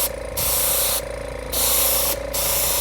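Airbrush kit spraying paint onto leather during a repair, heard as three loud sustained hissing bursts with short pauses between them, close up and alone with no talking.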